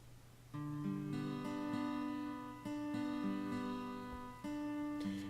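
Sustained synth pad chords from an O-Generator playing the chords of a song, with a soft, warm tone, changing every second or two over a low held note, clear and steady with no voices.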